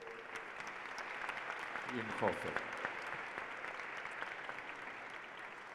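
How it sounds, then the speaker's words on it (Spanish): Steady audience applause at a museum panel discussion, dense clapping sustained throughout with a brief spoken name cutting in partway. "Un fuerte aplauso"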